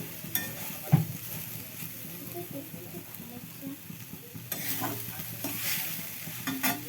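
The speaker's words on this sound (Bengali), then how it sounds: "তোমরা এরকম করে নেড়ে চেড়ে একটু নেবে" Grated coconut cooked with sugar and cardamom is stirred in a pan, giving soft, intermittent scraping and a low sizzle, fairly quiet and close, with a sharper utensil knock near the start.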